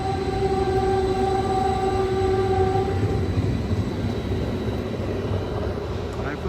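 A Caltrain local pulls out of Menlo Park Station, its horn sounding in sustained tones for the first few seconds before giving way to a steady rumble of rolling cars.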